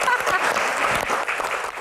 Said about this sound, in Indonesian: Tepuk tangan dong buat Rano.